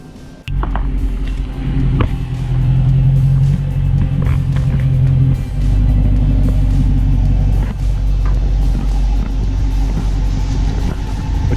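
A Dodge Challenger V8 with aftermarket exhaust idles and revs with a deep, loud exhaust rumble, throaty and close, holding steady after a sharp start.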